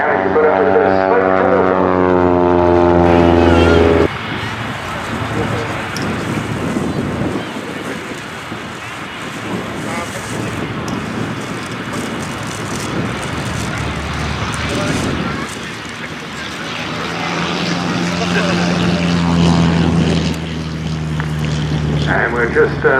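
Propeller engines of the Aviators aerobatic display aircraft drone loudly as they taxi down the runway at an air day, with a buzzing harmonic engine tone rising and falling under wind noise and a commentator's voice.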